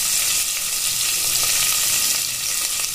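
Chopped onion and curry leaves fry in hot oil for dal tadka, giving a loud, dense, steady sizzle close up that holds without a break, with faint stirring beneath and no talk.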